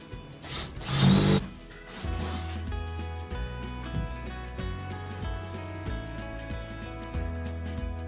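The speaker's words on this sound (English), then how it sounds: "After drilling the pilot hole" A brief burst of power drilling a pilot hole near the start, in a shed being converted to a tiny house, then a steady low mechanical hum with rhythmic pulses underneath.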